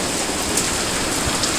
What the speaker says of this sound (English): this is what the rainy season is all about in Korea